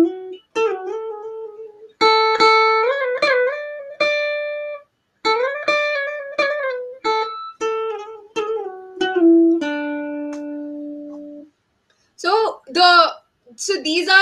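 Notes of the Carnatic raga Kalyani ring out in phrases with gamakas, each tone bending and oscillating in pitch. They come in separate runs with short gaps of silence between them, clear and close, with no talking.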